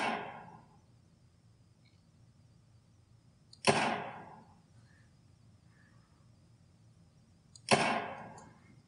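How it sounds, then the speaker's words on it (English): A video game gun fires three times through a home theater system connected by HDMI to a computer, each shot a sharp, loud crack that quickly decays, spaced about four seconds apart over a quiet background. "This is where we're seeing how much delay is between the actual firing the gun and you hear the sound."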